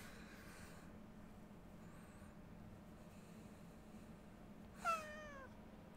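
Over low, steady ambience in the game Ancestors: The Humankind Odyssey, a cat gives one clear, plaintive meow with a falling pitch. Faint softer cries come just before it.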